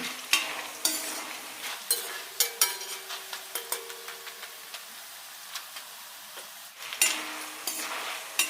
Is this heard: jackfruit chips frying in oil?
yes